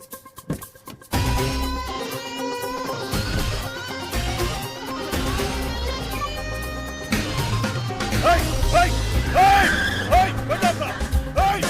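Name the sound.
car driving off quickly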